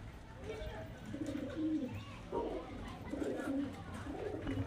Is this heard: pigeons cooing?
yes